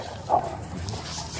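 Great Dane Boxer mix dogs give a short whimper and yip at close range, then fall into quiet rustling, with no talking over it.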